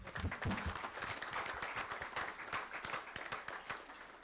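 A crowd applauding, steady dense clapping at moderate distance that holds throughout.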